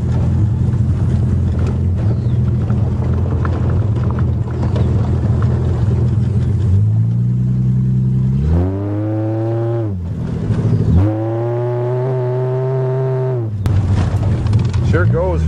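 A 1982 Toyota Cressida with an automatic transmission drives through the rain, its engine droning steadily up close and then revving in rising tones through several gear changes.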